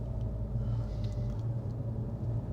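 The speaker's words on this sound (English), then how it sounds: "we're smack in afternoon traffic" A Hyundai Kona N moves slowly through Sydney afternoon traffic. Low, steady engine and road rumble with a faint background hum is heard from inside the car.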